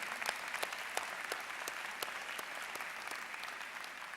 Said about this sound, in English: Both stand again, and let's give you a round of applause.